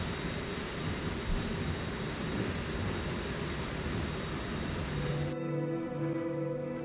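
A steady, loud aircraft engine drone fills the cabin during bush flying in Microsoft Flight Simulator 2024, holding a constant roar before cutting abruptly to a quieter hum near the end.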